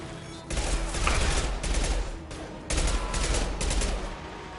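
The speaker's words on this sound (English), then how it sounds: "I hate this burst pistol" Burst pistol gunfire in Mass Effect 2 comes in loud, dense volleys, two main bursts separated by short gaps, close and sharp with rattling echoes.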